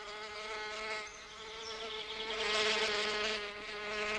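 Male bees flying in toward an orchid, a steady insect buzz with layered harmonic drone that swells and fades slightly as wings pass close, with no voices.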